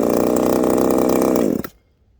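A chainsaw fitted with a six-tooth chain runs loud and steady at high revs, then cuts off abruptly, leaving near silence for the last half second.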